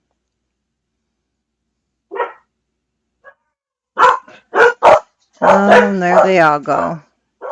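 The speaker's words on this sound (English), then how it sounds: "Somebody's barking in his sleep." A sleeping dog letting out muffled yips and soft woofs in short bursts, then a longer whimpering, bark-like run, with a person speaking briefly.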